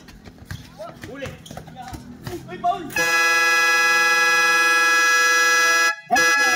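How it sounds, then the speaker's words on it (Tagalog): At a local basketball game, a loud, sustained electronic buzzer blares for about three seconds, cutting off briefly before sounding again. Excited commentary and crowd noise come before it. "Buzzer na lang maririnig nyo"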